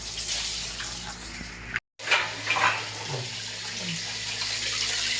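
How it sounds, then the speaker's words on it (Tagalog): Tap water runs hard and steady at close range in a home bathroom, a broad continuous rush that drops out briefly near the middle and then resumes. No one speaks over it. "Lakas tubig, ano?"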